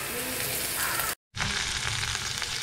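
Biryani masala frying in a pan for biryani egg dosa, giving a loud, close, continuous sizzle with stirring, broken by one brief silent gap.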